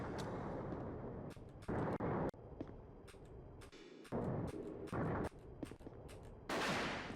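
Repeated grenade launcher shots in a shooter video game, several loud, broad bursts spaced irregularly across the clip with quieter gunfire and rumble between them, no voices.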